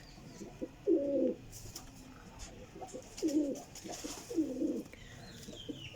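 Caged pigeons kept among quail for sale coo in three low, throaty bursts against a soft background hum.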